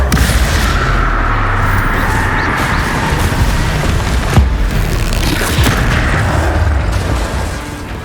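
Explosive Confringo spell blasts in the Hogwarts Legacy video game, a loud sustained booming roar with crashing impacts layered over one another, close and dense without voices.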